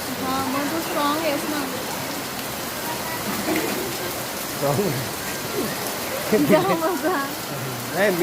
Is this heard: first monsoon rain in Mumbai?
yes